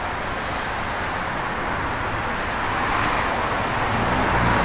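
A 1966 Dodge Coronet 500 engine runs steadily as a continuous, broadband rumble, heard close and fairly loud without talk, swelling slightly toward the end.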